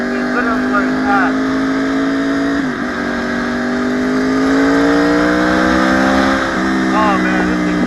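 A 2014 Yamaha YZF R1 1000cc supersport motorcycle accelerates hard, its engine note climbing steadily through the revs with gear shifts breaking the rise, loud and close as heard from the rider's position.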